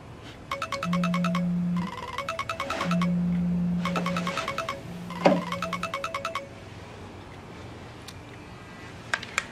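A phone ringtone plays for an incoming call in a Russian crime drama, a loud, repeating electronic melody of bright beeping tones that cycles several times before falling silent.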